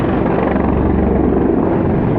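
A display helicopter flies aerobatic manoeuvres at the Eastbourne airshow, giving a steady, loud rotor drone with rapid blade chop that holds constant throughout, no voices over it.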